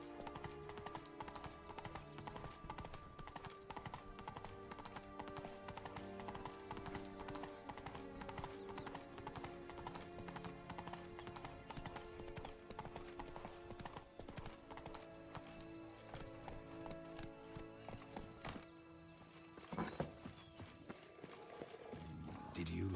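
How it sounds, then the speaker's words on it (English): A horse gallops in The Witcher 3, its hooves clip-clopping steadily and rapidly across the whole stretch amid game ambience, with a brief louder jolt near the end. "Run, Roach"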